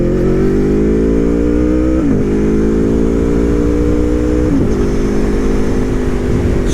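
An Aprilia motorcycle engine roars loud and close, holding a steady growling drone that rises in pitch, with two brief dips where gears shift before it climbs again, and no talking over it.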